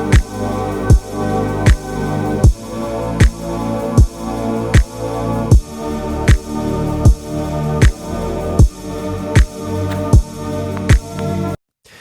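A lush, sustained synth pad made from a sampled human grunt, with a sharp percussive transient recurring roughly every second, ending abruptly in silence.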